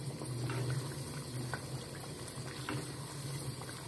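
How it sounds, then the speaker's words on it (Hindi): Pumpkin and beef frying in oil in a pot, a soft continuous bubbling sizzle with faint stirring, steady and fairly quiet, no voices. "इसे घी में भूनेंगे, तेल में भूनेंगे इसको अच्छे से"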